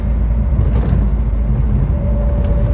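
A Mk.2 Ford Escort RS2000 drives along with a steady, loud engine drone and road rumble, heard from inside or close by, with a faint whine rising near the end and no talking.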